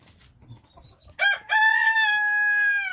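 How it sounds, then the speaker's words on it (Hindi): A rooster with feathered, hairy legs crows loudly and close by, a long sustained harmonic call held for about two seconds, preceded by a brief burst of rustling, flapping sound. "ये वाला इसी तरह का एक और मुर्गा है हमारे पास"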